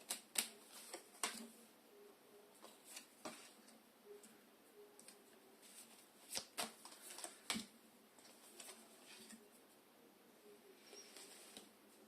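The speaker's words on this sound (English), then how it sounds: "And shuffle them a bit more." Tarot cards shuffled quietly up close, a soft run of irregular taps, flicks and riffles with sharper clicks scattered through, faint and without speech.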